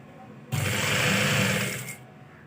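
An electric sewing machine stitching cloth in a village home runs in one close, steady whirring burst of about a second and a half, starting abruptly and winding down at the end.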